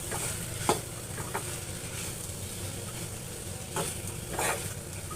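Taro stolon (lotir) curry with coconut and small shrimp stirred in a pan, a soft steady sizzle broken by a few scraping strokes, close and fairly quiet with no talking.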